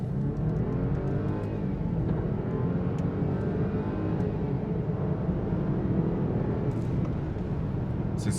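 A BMW 320i engine pulls hard under acceleration, a dense, low droning roar that stays loud and close throughout, with no voices.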